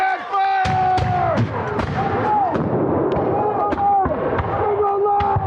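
Musket volleys fired in a Revolutionary War reenactment battle, sharp loud cracks repeating irregularly over the field amid shouted commands and crowd noise.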